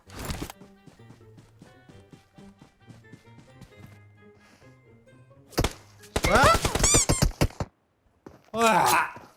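Gunfire in the mobile game PUBG Mobile: quiet in-game clatter and clicks, then a sharp shot followed by a rapid automatic burst and another short volley near the end, close and loud.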